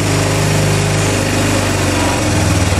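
A Yamaha Bruin 250 ATV engine idles steadily after its carburetor was cleaned, a close, loud, buzzing small-engine putter with even rhythm and no talk.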